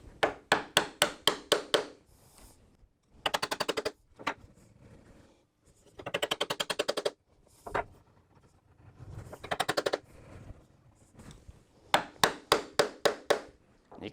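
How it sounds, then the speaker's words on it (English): Hand chisel chopping a wooden mortise in a hand-cut mortise and tenon joint: bursts of rapid, sharp mallet-driven strikes, close and loud, separated by quieter scraping pauses as waste is levered out. "You can see I'm bending the chisel back to lift up the material."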